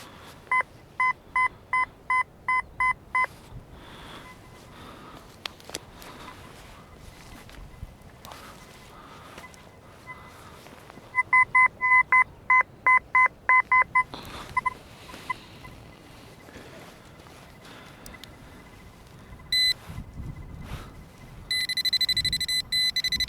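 Metal detector sweeping fields and forest while hunting for coins, giving bursts of rapid, evenly spaced electronic beeps in two clusters, with sparser single tones and brief tonal warbles in between, over quiet outdoor background.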